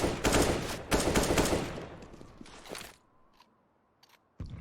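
Rapid bursts of gunfire in a Counter-Strike match on the Nuke map, loud sharp volleys of shots fading into quieter in-game ambience with a few distant clicks and a final shot.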